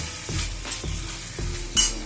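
Tomatoes and onions simmering in a pan as garlic and ginger are added, a soft sizzle broken by several rhythmic spoon stirs and scrapes, ending in a brighter clatter of the utensil against the pan.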